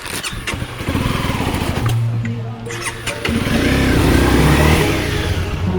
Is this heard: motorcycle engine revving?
yes